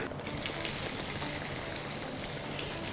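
Tinda (apple gourd) roasting in a hot pan with tomato masala, a dense steady sizzle and crackle that fills the whole stretch without pause, close and fairly loud.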